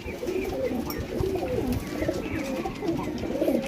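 High flyer pigeons coo in soft, repeated throaty calls close by over a low background murmur, the burbling notes overlapping throughout.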